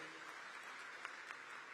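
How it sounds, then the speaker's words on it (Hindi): Applause at a ceremonial launch during the Khelo India Tribal Games 2026 closing event, a steady, distant wash of clapping that fills the whole moment at low level, with no voices standing out. "जोरदार तालियां इस बहुत ही सुंदर अवसर के लिए।"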